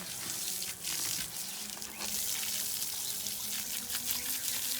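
Steady rush of running water spraying from a hose onto a buffalo calf on a cold day, continuous and fairly close, with faint splashing and light background noise throughout.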